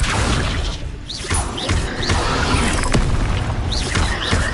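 Spell effects from Hogwarts Legacy: the Accio pull mixes with dense magical whooshes, booms and crashing impacts that layer into a steady, loud, busy game soundscape.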